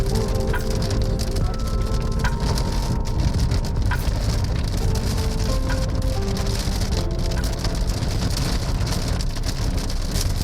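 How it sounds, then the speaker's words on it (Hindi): Light rain patters steadily on a car during a thunderstorm on a road trip between Bodhgaya and Varanasi in India, making an even wash of droplets with faint tonal sounds inside the car. "शुरू हो गई बारिश हल्की।"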